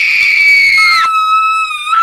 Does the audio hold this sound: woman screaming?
yes